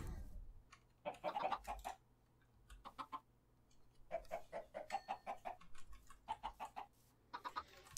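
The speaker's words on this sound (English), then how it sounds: "No, no baby chicken." Blocky Minecraft chickens give off a steady run of clucks in clustered bursts, near and clear, repeated many times with brief pauses between groups and no speech.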